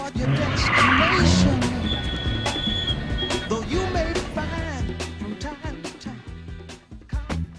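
A Westfield sports car doing donuts, its tires squealing and skidding loudly in long, wavering screeches over the engine's roar, fading into rougher scrubbing toward the end.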